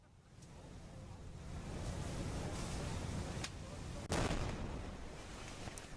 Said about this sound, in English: So what you just saw there was an explosion caused by molten titanium and magnesium in a warehouse